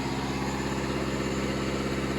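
A Vauxhall Astra engine running up while warming, a steady mid-pitched droning hum with a faint pulsing texture, close and continuous without talk.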